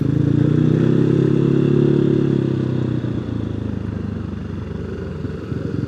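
A Yamaha NMAX 183cc scooter-style motorcycle rolls into a parking area, its engine droning steadily then dropping to a rougher idle rumble as it slows and settles, close and fairly loud with no talk.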